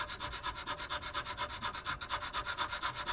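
Rhythmic back-and-forth rasping as a guitar nut is sanded to reshape it, about six strokes per second, close and fairly quiet, with no voices.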